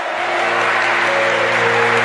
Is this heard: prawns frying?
no